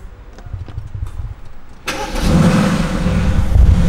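A low background rumble, then a car engine cranks and catches, settling into a loud, steady running growl close by.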